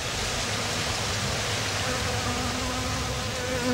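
Honeybees gather to drink water at a tub near their hives, giving a continuous dense buzzing hum with a breezy wash behind it, steady and close throughout with no talking.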